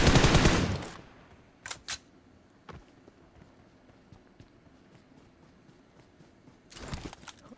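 Gunfire in a shooter video game: a dense burst of rapid shots up front, a couple of sharp isolated cracks, then quiet ambience before another loud volley near the end.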